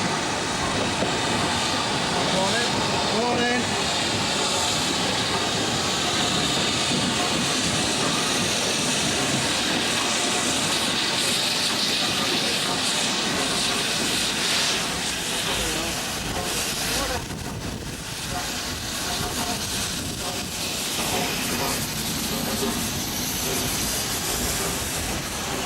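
Steam locomotive 6201 standing with a northbound train at Bury station on the East Lancashire Railway, a loud continuous hiss and rumble filling the scene with steady noise throughout.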